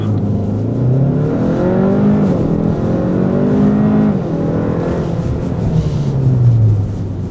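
A Hyundai Sonata N Line launches hard in a 0-100 km/h acceleration run, its engine note climbing steadily through several gear changes, loud and close for the whole stretch.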